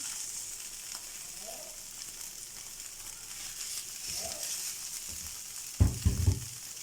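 Prepared chicken for cheese cutlets cooks in a pan with soy sauce, making a soft, steady sizzle with a few light stirring knocks and a brief louder clatter near the end.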